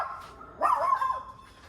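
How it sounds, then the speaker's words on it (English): A single short dog bark rings out, a little distant, against a quiet background. "There's Kit barking at the Amazon guy"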